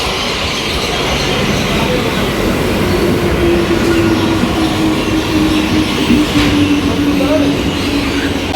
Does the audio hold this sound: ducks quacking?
no